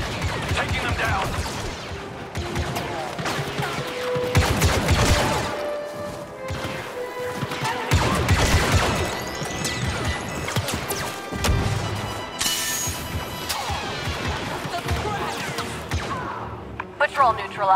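Blaster gunfire in a Star Wars: Battlefront II battle against Imperials on Yavin 4, heard as repeated crashing shots and impacts throughout a dense, loud combat mix with voices shouting over it.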